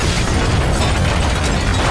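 A house blown up by a gas explosion in a film, a loud, dense, sustained roaring blast filling the whole moment with rumbling debris and no pauses.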